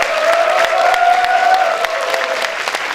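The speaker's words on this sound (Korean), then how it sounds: "박수 한번 부탁드리겠습니다" Applause at a youth party members' rally, a dense burst of clapping from a crowd with a sustained tone running underneath, steady and loud for a few seconds.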